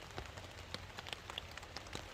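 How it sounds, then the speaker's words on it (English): Rain falls on a tarp over a stealth campsite, giving faint, scattered pattering taps and occasional sharper drops against a quiet background. "I love the sound of rain on a tarp."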